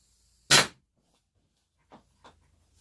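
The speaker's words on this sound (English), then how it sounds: "maybe I'll just shoot at this wall to show you how hard this is hitting" A single sharp crack from a metal XBZ tank air gun firing at a wall, a close, clean snap followed by silence and two faint ticks of the pellet bouncing away.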